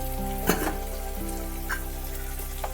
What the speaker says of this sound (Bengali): কষিয়ে নিতে হবে গ্যাসের ফ্লেমকে মিডিয়াম থেকে লোতে রাখতে হবে